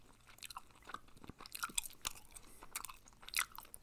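Hubba Bubba bubble gum being chewed close to the microphone, with soft wet smacks and sticky clicks in an irregular rhythm, quiet and intimate, with no talking.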